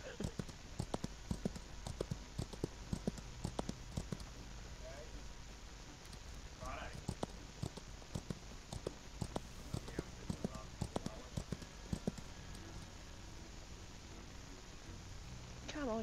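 Quick, light clip-clop of donkey hooves in the Outlaws of the Old West video game, a rapid patter running throughout at moderate distance while someone talks over it at times.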